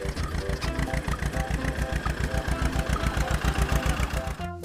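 Small engine on a mini clay tractor runs steadily with a fast, even putter throughout, close and fairly loud, cutting out abruptly at the very end.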